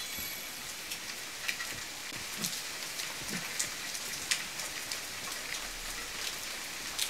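Steady rain falls inside a house in The Forest video game, a dense, even hiss dotted with brief drip clicks throughout, fairly quiet and with no one speaking.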